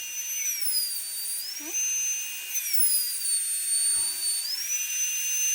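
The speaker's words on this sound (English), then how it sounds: "This is just the sound of this air tool." A high-pitched pneumatic air carving tool whines steadily as it carves a wooden bowl, its pitch dipping and rising with load, with a few brief knocks and handling noises close by.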